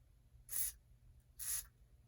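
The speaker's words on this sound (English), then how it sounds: "I'm just going to spray this a little bit in here" Two short hissing sprays about a second apart, each a brief burst of aerosol close to the mic into a stuck Shimano Dura-Ace 7800 bike shifter, with quiet background between them.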